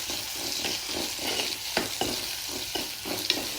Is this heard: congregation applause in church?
no